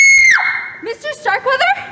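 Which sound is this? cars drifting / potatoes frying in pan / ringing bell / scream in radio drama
scream in radio drama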